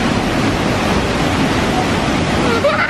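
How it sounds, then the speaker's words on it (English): The waterfall at St Nectan's Glen gives a steady, dense roar of falling water, broadband and unbroken, close and loud, with no voices over it. "You see the waterfall?"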